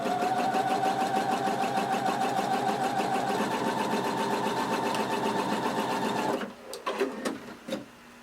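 A sewing machine stitches front overlays of a garment about an eighth of an inch from the folded edge, running in a fast, even mechanical chatter for several seconds before stopping, followed by a few faint handling clicks.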